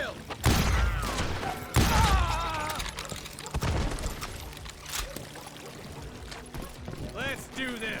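Gunfire in the Western shooter Call of Juarez: Gunslinger, with a few loud, heavy shots booming in close succession, followed by gaps and quieter reverberation while voices speak between the blasts.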